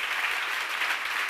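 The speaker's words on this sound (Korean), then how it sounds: "박수로 하세요." A church congregation claps together during a Korean pastor's sermon at a seminar, a short, steady wash of applause with no talking over it.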